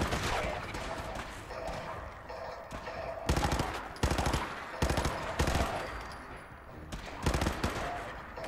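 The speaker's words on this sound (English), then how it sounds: "Who's shooting? Let's go see if we can find this this firefight." Bursts of gunfire ring out in a Fallout 4 firefight, with several loud, sharp volleys and single shots spaced across a steady bed of noise, the clusters coming at irregular intervals.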